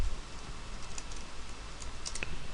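Keys tapped on a computer keyboard while entering a plugin version number, a quiet, uneven patter of light clicks running steadily over faint background hiss.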